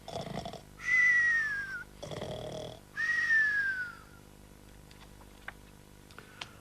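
A voice imitates a toy bear's snoring in a children's show: two long, drawn-out snores, close and loud, with a short pause between them. Small taps and clicks follow in the quiet afterward.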